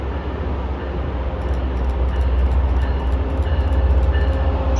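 An Amtrak or MBTA train pulls into Route 128 station with a deep, steady rumble that swells louder as it nears, while a series of high, evenly spaced electronic beeps sound over it.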